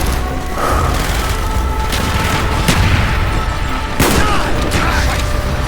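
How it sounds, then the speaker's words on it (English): Mortar fire in Call of Duty: Black Ops rumbles as repeated booms and sharp blasts amid dense battlefield gunfire, loud and close, with shouted voices over the chaos. "Firing mortar!"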